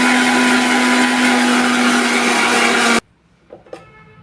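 A mixer grinder in a small jar grinds roasted coconut and sesame into a coarse powder, giving a loud, steady motor whine that runs for about three seconds and then cuts off abruptly, leaving quiet kitchen clatter.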